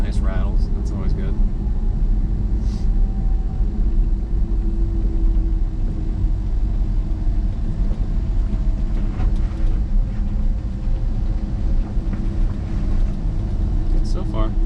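A Ford Ranger truck, driven for the first time in 13 years, rumbles along with a steady low road and engine drone while scattered rattles and clunks sound inside the cab, and a voice talks briefly.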